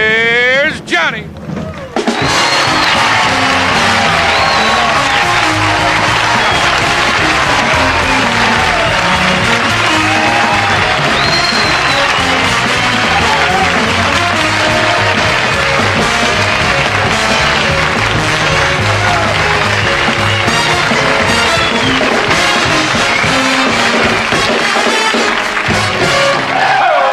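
Studio audience on The Tonight Show in 1973 bursting into loud, sustained applause that fills the room, a dense steady roar of clapping heard up close for nearly half a minute after a brief quieter opening.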